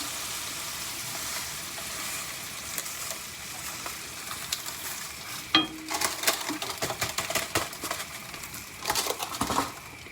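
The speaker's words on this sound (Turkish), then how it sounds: "kadayıfı şimdi biraz kavuracağım" Kadayif shreds roasting in melted butter in a home kitchen pan give a steady soft sizzle, with stirring scrapes and louder clattering bursts toward the middle and end.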